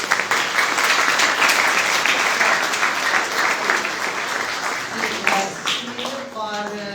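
Audience at a book launch for Bishop Andrew Francis breaks into sustained applause, loud and even, then tapering near the end as a voice begins speaking.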